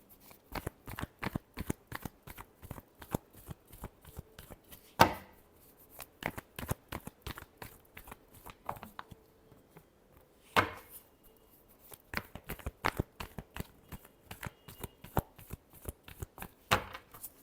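Playing cards shuffled repeatedly during a tarot-style reading, a steady run of crisp riffling bursts and taps, close and fairly quiet, with short pauses between rounds and no talking.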